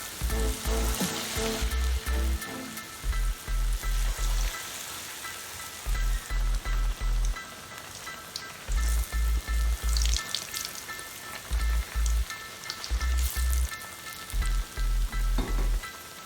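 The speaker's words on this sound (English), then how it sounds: "you always have to do your deep frying under medium heat" Steady crackling sizzle of plantain fritters deep frying in oil over medium heat, with rhythmic low thumps recurring every second or so; no voices.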